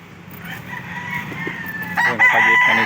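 Rooster crowing loudly and close on a roadside farm lot, with chickens clucking around it and a steady outdoor hum underneath; no one speaks.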